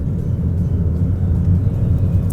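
Toyota Yaris Hybrid XP210 driving up the winding road of Mount Haruna, a steady close low rumble of engine and road noise from inside the car, continuous and even with no talk.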